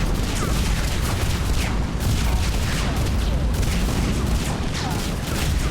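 Explosions and gunfire pound without pause in a sci-fi shooter video game, a dense, loud, continuous barrage of booms and bursts.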